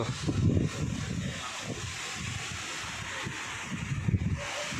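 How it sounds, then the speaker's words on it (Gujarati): Strong gusts buffet the microphone in low, uneven rumbling bursts, with a steady airy rush underneath and no voices. "બહુ એટલે બહુ જ પવન છે આજ"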